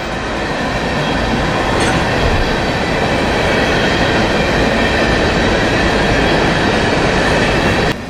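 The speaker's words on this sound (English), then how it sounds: "this empty train came out of the Palatka area" An empty freight train rumbles and clatters past at close range, loud and continuous, with a brief high wheel squeal early on.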